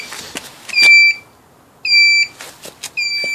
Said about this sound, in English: It does beep to tell you the turn signal's on.